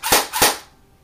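JG MAC-10 airsoft electric gun fired with its suppressor removed, running on a 7.2 volt battery: two sharp, close, crisp snaps in rapid succession, then a brief fading tail.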